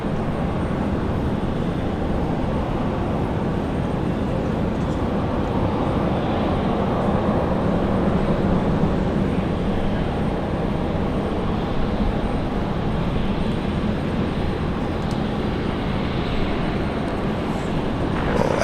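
An Air New Zealand A321 airliner departs Brisbane International Airport at sunset, its jet engines a steady, broad roar that holds at a distance throughout.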